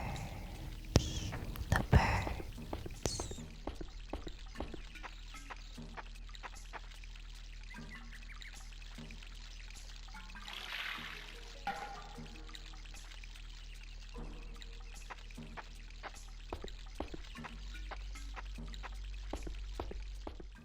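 Gentle water ambience from the video game Shenmue, with a soft pouring trickle under scattered faint clicks and taps, a brief louder splash near the start, then a steady quiet background throughout.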